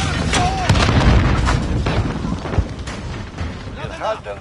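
A live grenade detonates in the Call of Duty: Modern Warfare video game, a loud, booming blast early on that rolls into rumbling battlefield noise, with in-game voices calling out over it.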